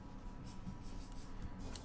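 A brown colored pencil scratches and rubs across paper in a continuous soft, close-up shading stroke, faint and steady with no talking.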